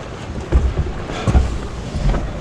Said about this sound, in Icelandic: Heyrðu vind.